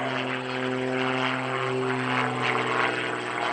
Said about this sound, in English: Charlie's going to tumble the airplane nose over tail.